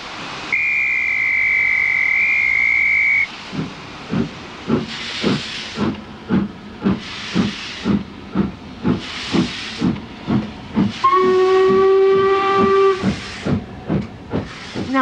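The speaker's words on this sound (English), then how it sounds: "Then it's back to the station for a trip on a steam train." A steam locomotive on the line to the ferry port of Mallaig hisses and sounds its whistle, then chuffs in a loud, steady rhythm before giving a second long whistle. No voices are heard.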